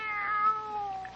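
A cat meows in one drawn-out, plaintive cry, clear and close, with no talking over it, from an old-time radio horror drama.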